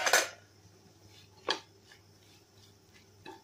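Capsicum is added to a vegetable biryani made with raw rice in a pressure cooker: a sharp metal clank of a spoon against the cooker, then a few lighter scattered clinks, close by in a quiet kitchen.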